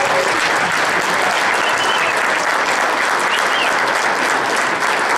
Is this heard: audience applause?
yes